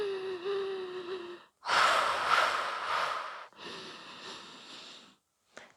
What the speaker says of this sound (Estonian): Hinga alguses täiesti sügavalt.